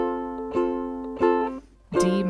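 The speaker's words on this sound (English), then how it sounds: "If we play these verse chords with just a down strum, it will sound like this." Ukulele chords, an F among them, played with single down strums from a verse progression: three close, ringing strums spaced roughly evenly, each decaying before the next, with no voices over them.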